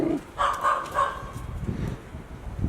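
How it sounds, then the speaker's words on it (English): Guard dogs bark a few times in quick succession at moderate distance in Halong Bay, Vietnam, then the scene settles into low background rumble. "Guard dogs."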